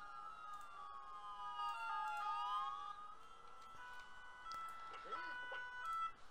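A police patrol car siren in the Emergency 4 video game wails in rising and falling sweeps, loud and continuous over background game ambience, with a second siren tone joining near the end.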